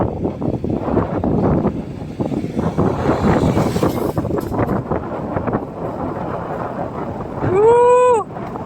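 Strong wind buffets the microphone throughout a group bike ride from Meycauayan to Dingalan, a loud, steady roaring rumble, with a brief rising whoop-like tone near the end.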